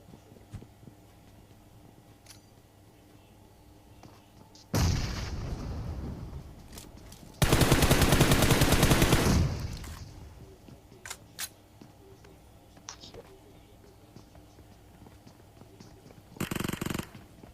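Gunfire in the mobile battle royale game PUBG Mobile, heard as two loud sustained bursts of rapid shots and a brief final burst, separated by quiet stretches with faint clicks.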